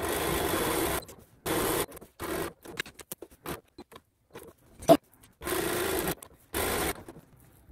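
A sewing machine stitches diagonal lines across a fabric casserole coaster in short bursts of whirring, separated by quiet pauses and small handling noises.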